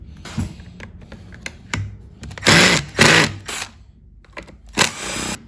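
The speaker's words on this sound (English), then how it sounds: "We're gonna do that by removing these three screws." Screws being backed out of the starter housing on a Husqvarna 525P4S pole saw, heard as short close-up clicks and scrapes with a few louder bursts of screwdriver and plastic-housing rattle.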